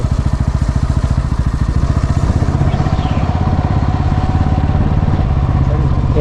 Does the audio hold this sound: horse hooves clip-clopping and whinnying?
no